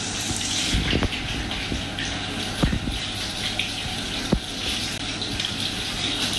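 Hands are rinsed under a running tap, a steady loud gush of water splashing into a sink with a few brief knocks, no talking.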